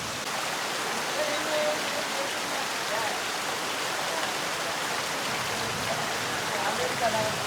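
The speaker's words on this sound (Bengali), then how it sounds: "জাস্ট ওয়েদারটা আপনারা দেখেন বৃষ্টির সাউন্ডটা শুনেন এটা কমপ্লিটলি মাইন্ড পিসিং একটা সাউন্ড" Steady rain falls at Nuhash Polli, a broad, even hiss that holds without a break from start to finish, fairly close and full, with no clear individual drops and no talk standing out.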